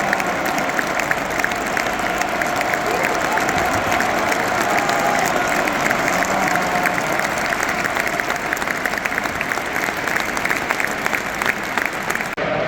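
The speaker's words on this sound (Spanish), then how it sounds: "brutal el aplauso que está llevando Jesús Navas del Bernabéu." A large stadium crowd at the Bernabéu applauds steadily as a player leaves, producing a dense, continuous wall of clapping with some crowd noise underneath that holds loud and even throughout.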